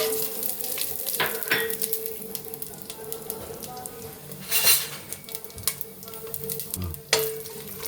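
Cashew nuts frying in oil in a pan for a Sunday veg biryani, a steady close sizzle broken by scattered clinks and scrapes of a stirring spoon, with no talking.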